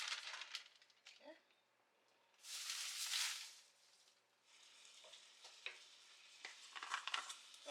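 Ground beef for sloppy joes hits a pan and is stirred, giving bursts of sizzle and scraping, with a loud hissing swell in the middle and quieter crackling toward the end.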